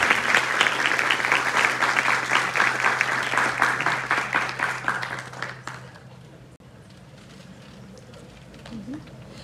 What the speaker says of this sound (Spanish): un fuerte aplauso para cada uno de ellos